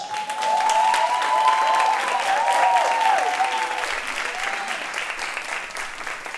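Steady applause from an audience for a group of young performers in training, loud and sustained for several seconds before tapering slightly, with cheering voices and whoops riding over the clapping.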